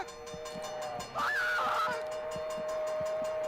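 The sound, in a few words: train passing at a crossing in a video game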